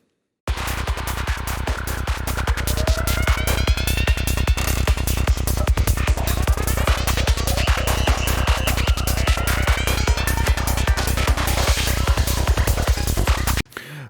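An electronic track with FM lead synths: a loud steady kick pulse driving throughout, with bright chirping, sweeping leads layered on top for the whole stretch before it stops abruptly.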